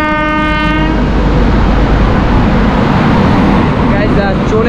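A passenger train on the Raiganj to Katihar line leaves a railway station, opening with a loud, close horn blast for about a second, then a heavy, continuous rumbling roar of wheels and carriages.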